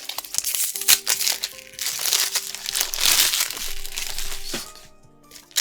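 Foil booster pack wrappers from a box of Magic: The Gathering Kaldheim cards crinkle and crackle nearby, a steady run of crumpling and crunching that fades near the end, with faint tones in the background.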